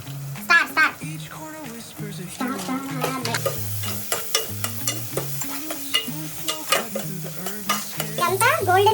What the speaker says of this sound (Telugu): గోల్డెన్ బ్రౌన్ వచ్చే వరకు దీన్ని ఫ్రై చేసుకోవాలి.